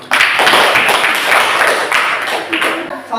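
A classroom of students bursts into brief, dense hand clapping for the most active group, loud and close, tapering off after about three seconds.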